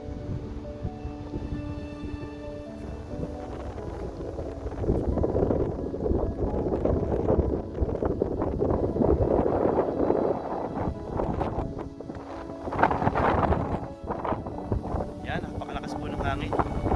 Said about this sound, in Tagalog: Mararamdaman nyo at madidinig nyo ang lakas ng hangin.